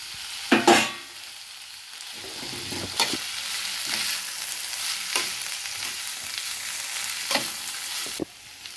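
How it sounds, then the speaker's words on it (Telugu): Flat bean pods fry in oil with pounded spice powder and turmeric, a steady sizzle broken by a few sharp scrapes and knocks of stirring in the pan, with no voices. "నూనెలు అయితే కొంచెంసేపు మగ్గినాయి ఇప్పుడు పసుపు వేసుకుంటున్నా దంచి పెట్టుకున్న పొడి"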